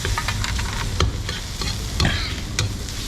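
Wild boar meat stir-fries in a hot pan, sizzling loudly and steadily up close, with scraping and clanking of a utensil stirring it at irregular moments.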